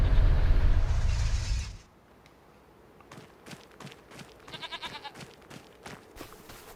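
Goats bleat inside a goat enclosure on a Louisiana farm in Farming Simulator 25. A short burst of bleating comes up close, with a loud rush of game noise before it and light footsteps and farm sounds around it.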